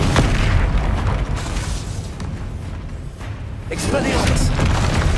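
Confringo explosive spell blasts go off in Hogwarts Legacy combat, with loud, deep booms and bursts rolling through the whole stretch and a voice shouting over them.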